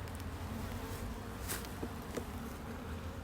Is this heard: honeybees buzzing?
yes